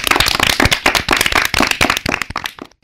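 A small group of children from two quiz teams clapping hard in a radio studio, loud close sharp claps in a fast uneven rhythm that fade out near the end.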